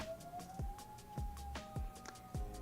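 A faint mechanical siren wail holds a steady pitch, with soft rhythmic thumps and clicks recurring every half second or so.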